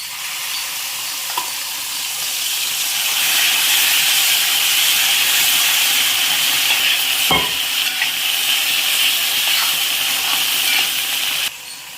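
A tempering of curry leaves and asafoetida fries in a pan for a Telugu-style greens dish, giving a steady close sizzle and hiss that swells after a few seconds and holds, with a brief clink of stirring.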